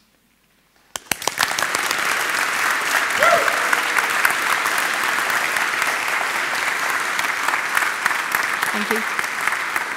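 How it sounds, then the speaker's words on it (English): Audience applause and cheering for teachers at a Sunday keynote on programming in schools, starting abruptly after a moment of quiet and then holding as a loud, dense, sustained roar of clapping; a brief spoken thanks is heard. "I'd just like you to give a big clap and shout out for teachers,"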